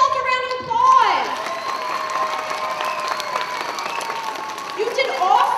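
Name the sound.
children's applause at a school assembly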